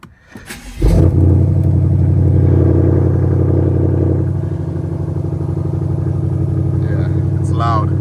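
A BMW M550 roars to life with a loud, sharp startup flare, then settles into a steady, rumbling idle that stays close and prominent, with a brief voice near the end.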